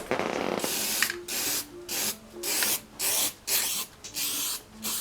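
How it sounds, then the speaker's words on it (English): Sprayable zinc hisses from an aerosol can onto a medieval armor backplate in a series of short bursts, about eight close, loud sprays separated by brief pauses. "This spray is sprayable zinc."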